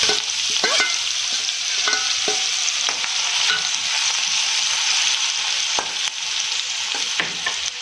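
Chopped green onions fry with asafoetida in a pan, giving a close, steady sizzle broken by scraping and stirring clicks from a spoon, with no one talking.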